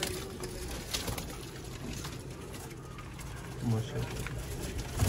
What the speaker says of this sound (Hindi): काले मुंह वाला कबूतर